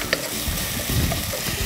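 Brinjal is stirred into a cooking mixture in a pan, a close scraping and rustling stir with a soft sizzle throughout.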